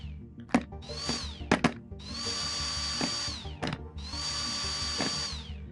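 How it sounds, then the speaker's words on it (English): An electric screwdriver in the Battlecrafter VR game buzzes in three sustained bursts, with sharp clicks and short whirs between them, close and fairly loud. "The following tools are activated. Electric screwdriver."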